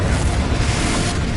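Confringo blasting spell explosion in Hogwarts Legacy, a loud continuous low booming rumble with no break.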